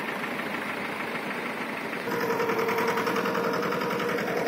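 Mahindra Jivo 225 DI mini tractor hauls an 80-quintal loaded trolley, its diesel engine knocking in a steady close chug that grows louder and rougher midway as the load pulls.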